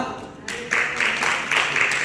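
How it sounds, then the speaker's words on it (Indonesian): A church congregation at a worship service claps for God, the clapping rising in after a brief quieter moment and falling into rhythmic, pulsing bursts of many hands over a faint tonal background. "Beri tepuk tangan untuk Tuhan kita."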